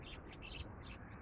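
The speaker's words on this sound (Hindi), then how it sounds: "चिड़िया चहचहा रही हैं" Faint, high chirping of small birds in quick repeated bursts, distant and soft against a quiet background hiss, on a quiet village street in Sindh, Pakistan.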